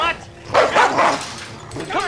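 A dog barks in a few harsh, close bursts during a tense thriller scene, with raised voices around it.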